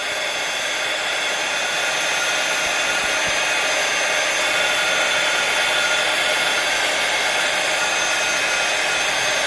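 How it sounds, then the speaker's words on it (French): A heat gun blows steadily while melting embossing powder on a small cat card, a loud, close, continuous whooshing roar of hot air with no pauses. "Je vais prendre mon pistolet Heat Gun et je vais commencer à faire fondre donc ma poudre"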